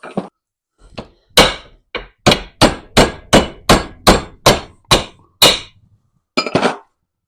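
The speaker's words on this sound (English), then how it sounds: "I'm just going to put it in the vise and bash the centre out." Hammer blows on a steel vise driving the centre out of a cut-down hard red Polyrace suspension bush: about a dozen loud, sharp metallic strikes in a steady rhythm, a pause, then a final pair of hits, with no talk.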